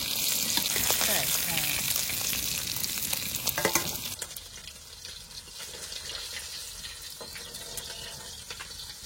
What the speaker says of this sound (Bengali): মাছ সব ভাজা হয়ে গেছে, এবার তুলে নেব।